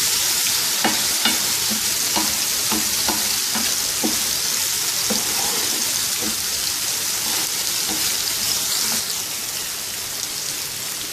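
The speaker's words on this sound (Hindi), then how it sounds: "इसके अंदर स्पाइसेस शामिल करेंगे, chilli flakes, salt, turmeric powder और इसको हल्का सा भून लेंगे" Chili flakes, salt, turmeric and other spices roast in a hot pan for dhaba-style chana daal, a loud continuous sizzle broken by repeated scraping clicks from a spoon stirring through them.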